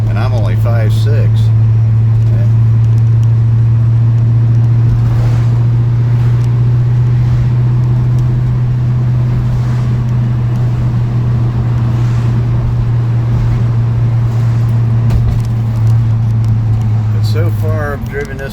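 Steady low engine drone of a 1955 Chevrolet Bel Air cruising along in traffic, a constant loud rumble with road and wind noise throughout, someone talking over it.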